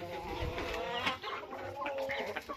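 Bantam roosters cluck in a backyard flock, a busy overlapping chatter of short calls at moderate distance, continuous throughout.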